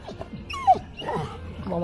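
A dog whimpers and whines briefly during a countryside walk with other dogs, one sharp high yelp standing out among soft low whines and some nearby voice.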